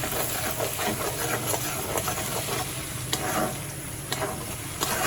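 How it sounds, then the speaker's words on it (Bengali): Butter melting with three or four cracked cardamom pods in a pan for butter chicken, a dense, loud sizzling hiss with faint stirring taps throughout, no speech. "বাটারটা মেল্ট হওয়া পর্যন্ত একটু নাড়িয়ে নেব"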